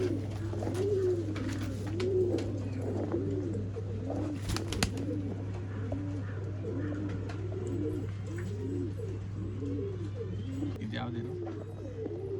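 Old line pigeons in Bangalore cooing continuously, many soft rolling coos overlapping close by over a steady low hum.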